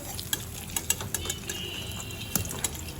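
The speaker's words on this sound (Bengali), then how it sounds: "এবার আবার পেছন দিকটা ভালো করে ভেজে নেব" Stuffed flat beans (shim) fry in a pan with a steady low crackle, broken by a scatter of sharp clicks and scrapes from a utensil turning them, close and continuous with no talking.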